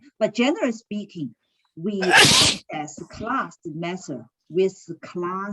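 A single loud, sharp sneeze bursts out in a classroom, breaking through a lecturer's steady speech, which continues right before and after it.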